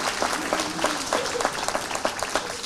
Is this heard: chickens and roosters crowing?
no